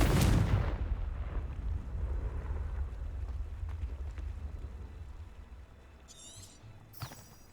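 A Confringo blasting curse fired in the Hogwarts Legacy video game: one loud explosive burst up front, then a long rumbling decay. Brief magical whooshes and chimes follow near the end.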